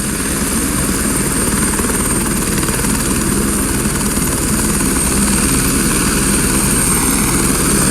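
A California Highway Patrol rescue helicopter, used to rescue a hang glider pilot from wreckage, gives a loud, steady rotor and turbine roar that stays close and constant throughout, with no talk.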